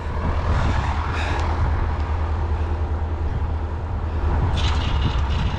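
A Bobcat 763 skid steer loader with a snowblower attachment runs steadily nearby, a continuous loud engine drone with a roaring blower whoosh throughout and no pauses.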